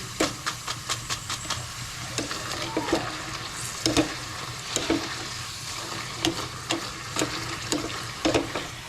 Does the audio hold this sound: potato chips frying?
yes